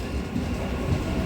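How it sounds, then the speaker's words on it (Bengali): A new ICF passenger train rolls into Aranghata station with a continuous low rumble and wheel noise, loud and close, steady throughout with no voices. "চলে আসছে আড়ংঘাটাতে ট্রেন।"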